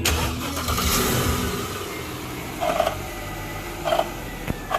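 2008 Mercedes S550 engine cranking and catching, a loud start flare that settles into a steady idle hum, followed by a few short metallic clicks and knocks nearby during a transmission fluid change.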